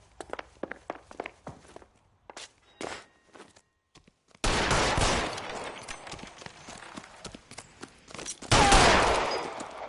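Gunfire in a film scene: sparse footsteps and quiet clicks give way to a sudden, loud, sustained burst of rapid shots, with a second sharp volley near the end.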